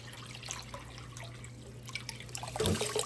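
Water trickles and drips steadily as buckets are filled for hydroponic tulips in a chilly shed, a soft continuous flow with a louder splash near the end.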